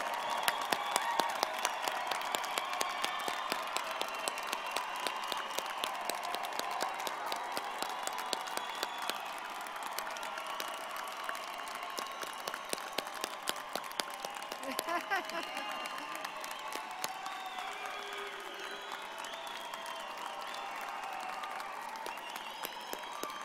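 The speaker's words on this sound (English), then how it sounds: "Let's have a round of applause for all of our graduates." Sustained applause from a convocation audience honoring nursing graduates, a dense, steady patter of many hands clapping throughout at moderate distance, with faint crowd murmur mixed in.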